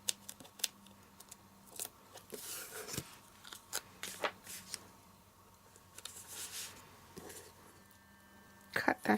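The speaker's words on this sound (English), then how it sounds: "Cut that in half" Scissors snip through craft material for a custom tee, giving a series of close, scattered cutting crunches and clicks over about nine seconds with a quick flurry of snips at the end, under some quiet speech.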